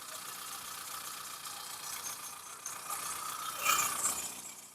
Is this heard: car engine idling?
yes